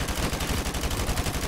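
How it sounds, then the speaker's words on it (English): In Call of Duty: Modern Warfare Remastered, an automatic weapon fires from the hip in a rapid, steady burst of close, loud shots throughout. "I was firing directly at him with hip fire"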